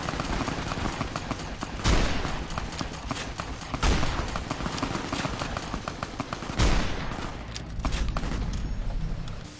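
Rapid bursts of Tommy gun fire from the video game Fallout: New Vegas rattle loudly and continuously, punctuated by heavier booming reports every couple of seconds, with no voices over it.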